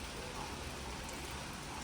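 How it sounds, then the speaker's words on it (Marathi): Steady, dense hiss of heavy monsoon rain falling in the Konkan region in the evening, a continuous wash of noise with no breaks, moderately loud throughout. "संध्याकाळची वेळ झाली आणि अजून पाऊस काय थांबतच नाही आहे"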